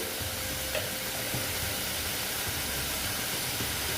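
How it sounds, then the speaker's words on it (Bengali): Spices and turmeric cook down in a pan with a splash of water for a rohu fish curry, producing a dense, even, continuous hiss and sizzle with no talking. "দেখো দিয়ে এবার ভালো মতন এটাকে কষিয়ে নেব"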